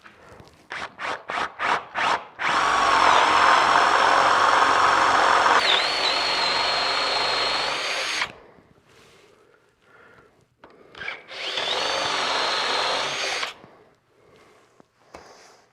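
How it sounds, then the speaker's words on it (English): A drill with a 1-inch Forstner bit boring into a wooden stair railing, heard close up as several short bursts followed by two long, loud grinding runs with a pause between them. "So now I'm just going to drill this hole with a 1-inch Forstner bit."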